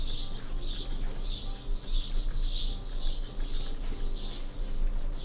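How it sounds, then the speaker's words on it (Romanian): Birds chirp in the video game Trove, a busy flock of high tweets repeating in rapid clusters over a low steady hum. "S-au supărat mai tare păsările."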